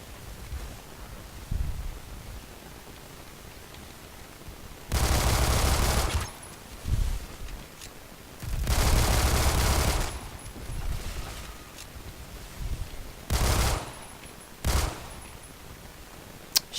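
Automatic Glock 18 pistol fire in the shooter game Phantom Forces: several loud, sharp bursts of rapid shots, one longer burst and a few shorter ones, separated by quieter gaps with no talking.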